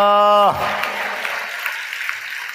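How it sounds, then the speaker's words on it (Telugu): A church congregation claps together to praise God during a Telugu worship service as a baptism begins, dense applause breaking out right after a sustained sung or spoken tone and continuing steadily without pause. "మిగిలిన వాళ్ళు చప్పట్లు కొట్టి దేవుని మహిమపరుద్దాం"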